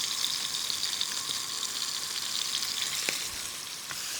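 Food sizzles in a hot pan as chicken is cooked, a steady, close, hissing crackle with a few small pops, and no talk over it.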